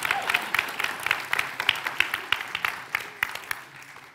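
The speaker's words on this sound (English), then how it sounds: "Give them a big round of applause." Audience at a junior chef competition gives a round of applause, moderately distant clapping with a few sharper individual claps standing out in a steady rhythm.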